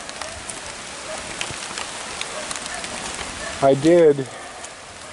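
Heavy rain pouring steadily on surfaces outdoors at a tilapia pond, a dense close hiss throughout, with a man's brief words near the end.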